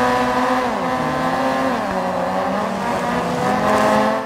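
Rally car racing in DiRT 4, a loud continuous engine roar with shifting pitch as it revs and changes gear, tires scrabbling faintly beneath, with no talk.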